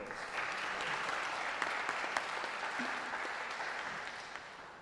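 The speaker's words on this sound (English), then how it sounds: "let's give our musicians another round of applause" Sustained applause for musicians at an evening donors and scholars reception, a roomful of hands clapping evenly at moderate distance and fading slightly toward the end.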